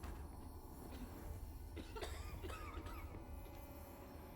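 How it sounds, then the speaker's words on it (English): Faint coughing, a few hoarse bursts, in the video game The Witcher 3, over a steady low hum of background noise. "I can hear coughing."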